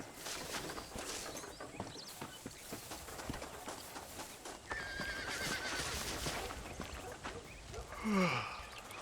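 A horse in the Red Dead Redemption 2 video game clip-clops along, then lets out a loud rising and falling neigh near the end, with the hoofbeats soft under faint ambient game sound.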